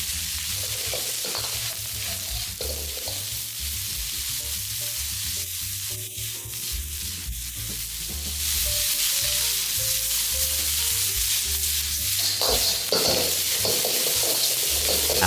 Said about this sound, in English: Once the garlic is fragrant, add the cabbage and radish and stir-fry until aromatic.